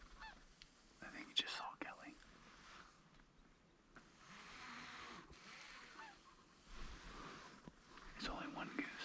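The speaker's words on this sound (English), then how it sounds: "It's just one goose." A single goose honking outdoors during a warm-weather goose hunt, a few faint, distant honks scattered among quiet ambient noise, with people whispering softly nearby.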